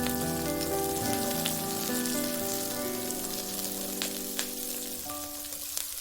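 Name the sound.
garlic scapes stir-frying in cooking oil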